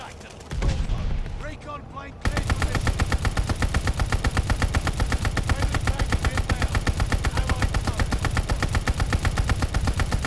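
Ball turret killstreak machine gun in Call of Duty Vanguard fires a loud, continuous, rapid stream of shots that runs unbroken after a brief mix of earlier game sounds.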